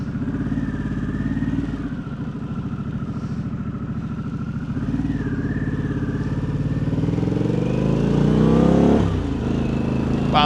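A 2025 Harley-Davidson Pan America ST engine revs and pulls while riding around Raleigh, a steady mid-pitched drone that rises in pitch and builds toward the end, heard close with wind rush and no talking.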